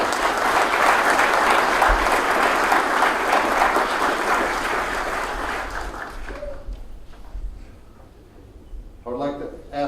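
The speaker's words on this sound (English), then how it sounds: "Ladies and gentlemen, please give them a round of applause." Large audience at a fire chiefs' annual conference installation ceremony gives loud, sustained applause that fades after about six seconds, followed by someone speaking over a microphone.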